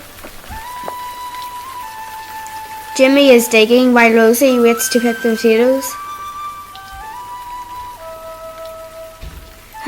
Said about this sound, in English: Hurry up, I think it's going to rain.